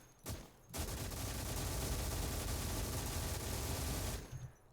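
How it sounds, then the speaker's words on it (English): A German 7.92 mm belt-fed machine gun in the World War II game Call to Arms: Gates of Hell fires a short shot, then a long, loud, unbroken burst of rapid fire lasting several seconds before cutting off. "It looks like they've got like a giant machine gun on them."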